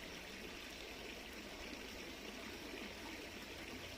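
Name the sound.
water flowing in a stream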